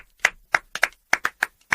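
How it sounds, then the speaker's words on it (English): A small audience gives a brief round of applause, about eight distinct, spaced handclaps rather than a dense ovation, fairly close and clear against a quiet room. "So let's give a round of applause for our audience."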